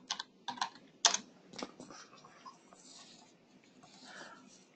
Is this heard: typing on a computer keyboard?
yes